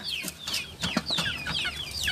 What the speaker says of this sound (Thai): ได้ยินเสียงไก่เสียงเป็ดเสียงนก